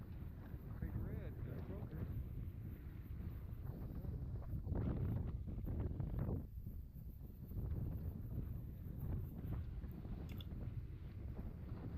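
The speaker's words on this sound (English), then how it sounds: "Windy day." Steady wind gusting across open water on the lower Laguna Madre, a continuous rushing buffeting of the microphone at close range, swelling around the middle and holding loud for the whole stretch.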